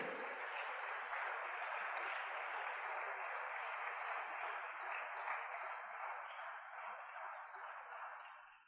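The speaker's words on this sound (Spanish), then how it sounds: "Dale ese aplauso al Rey de Reyes" A church congregation applauds for the King of Kings during a Bible seminar, a steady broadband wash of clapping that holds evenly throughout and fades slightly near the end, fairly distant and reverberant.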